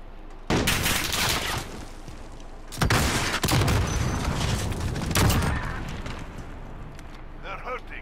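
Repeated heavy sniper gunfire in Call of Duty: Modern Warfare, loud booming shots with lingering reverberant tails from about half a second onward, a burst near three seconds and another near five, with a voice briefly at the end.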